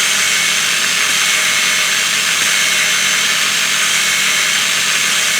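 A drill spins steadily while lapping valves on a Nissan engine, a loud, continuous high whine held at an even speed and close by throughout.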